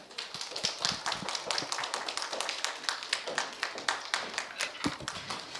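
Children at a church children's service clap together in a dense, lively burst of applause to welcome a preacher, fairly close and steady throughout, with faint voices underneath.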